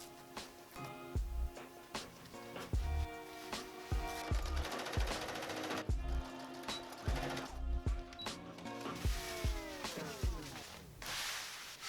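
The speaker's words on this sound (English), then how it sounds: "I'm going to sew them together for about 4 inches." A sewing machine stitches the front seam of a dress bodice in short bursts of rapid mechanical whirring and clicking, stopping and starting with small handling knocks between runs.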